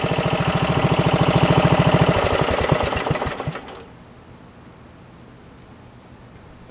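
A riding mower engine chugs in rapid, rhythmic putters, then sputters out and dies, leaving quiet background hiss.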